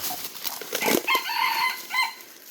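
A red junglefowl rooster crows close by, a hoarse, strained call with a rising and falling pitch, heard alone without any talking.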